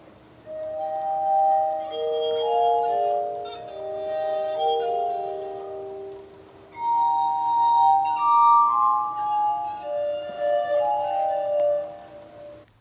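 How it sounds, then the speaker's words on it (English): A glass harp sings as wet fingers rub the rims of tuned drinking glasses: sustained, pure ringing tones form a slow melody in two phrases separated by a brief pause, played alone and fairly close. "Playing a glass sounds easy enough to do, right?"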